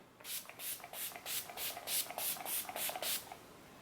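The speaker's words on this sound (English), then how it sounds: "you're adding layers of the setting spray" Makeup setting spray hisses from a pump bottle in about ten quick, evenly spaced spritzes, close and crisp with nothing else heard.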